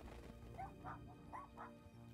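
A dog in the video game Little Misfortune gives a few soft, quick yips and whimpers, faint and close together, over a quiet background hum.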